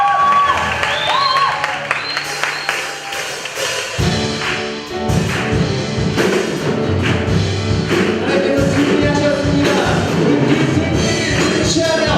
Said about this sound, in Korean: 박수와 함성을 해봅시다